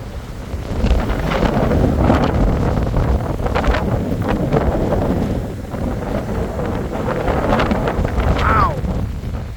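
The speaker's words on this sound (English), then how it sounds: "It is very windy." Strong gusts batter the microphone outdoors on a dusty, rocky day during a passing front, a loud, continuous rumbling roar of wind buffeting that swells and eases throughout, with no clear speech over it.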